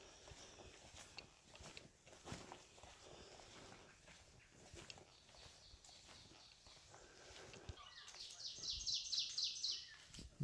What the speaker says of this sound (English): I'm not sure what kind of bird that is.